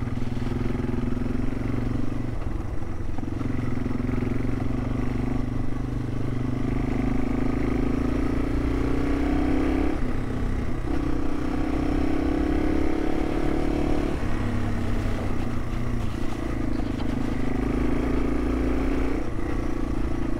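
A Yamaha TW200 motorcycle with its factory exhaust rides through woods, its engine droning loud and steady with gentle rises and dips in pitch as the throttle shifts, close and continuous.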